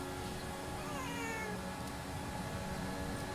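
A cat meowing, one drawn-out descending meow near the start against a dense, constant background roar of racing-game engine noise during an F1 league race broadcast, no talking over it.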